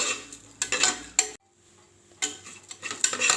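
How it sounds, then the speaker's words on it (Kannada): Coriander seeds dry-roasting in a pan are stirred with a spoon, giving scraping, rattling bursts with a short pause in the middle, close and moderately loud with no talking. "2 ಸ್ಪೂನಷ್ಟು ಧನಿಯಾ ಹಾಕ್ಕೊಳ್ಳಿ. ಒಂದು 5 ನಿಮಿಷ ಇದನ್ನು ಬಾಡಿಸ್ಕೊಂಡ್ರೆ ಸಾಕು"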